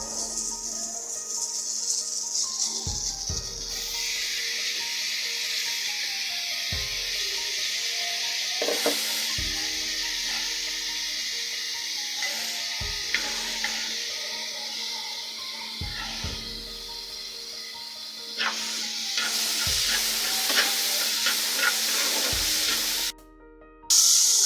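Egg bhuna with chopped onion frying in a pan, a continuous loud sizzle and hiss with periodic stirring scrapes and knocks, brief dropouts near the end, no voices.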